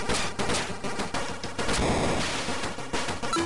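Rapid gunfire at a velociraptor in the Game Boy Jurassic Park game, a fast series of sharp, loud shots repeating in a steady rhythm.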